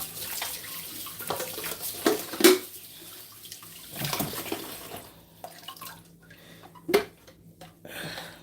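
Running tap water rinses juicer parts after making a morning green juice, a steady wash of splashing with a few louder clatters and knocks of parts against the sink, close and without talk.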